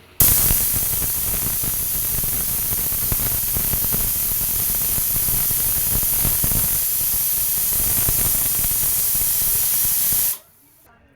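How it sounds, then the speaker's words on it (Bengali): A pressure cooker vents steam while cooking marinated mutton, giving a loud, steady hiss that runs for about ten seconds and then cuts off abruptly. "প্রেসারে একবারে দিয়ে ম্যারিনেট করে দিয়ে আর সিটি মেরে দেবো"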